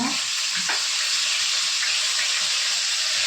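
Hilsa fish frying in hot oil for a curry with taro stolons, a steady loud sizzle and crackle that runs throughout with no voices.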